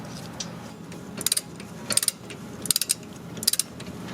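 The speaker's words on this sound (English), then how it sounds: "this is a click type wrench, guys, so once you hear that click you should stop immediately" A click-type torque wrench tightens brake bolts on a Dodge: four short, close bursts of sharp mechanical clicks separated by brief pauses.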